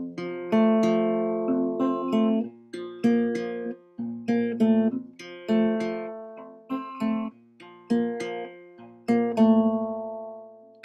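Two guitar chords from a song, strummed in a repeating rhythmic pattern of short decaying strums, close and clear with no voice.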